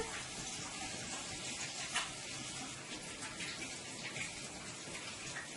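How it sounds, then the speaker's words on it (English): Hands washed under a running kitchen tap, a steady broadband rush of flowing water with faint splashing changes, continuous and fairly close throughout, no one speaking. "Let me go ahead and wash my hand"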